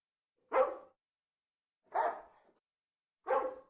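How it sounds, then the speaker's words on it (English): Three single dog barks from a game sound effect, each short and sharp, spaced about a second and a half apart against silence. "and it plays the bark sound"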